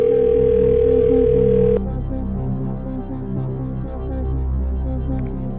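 A telephone line tone sounds steadily for nearly two seconds and then cuts off, followed by a low hum of studio ambience from a Who Wants to Be a Millionaire game show set.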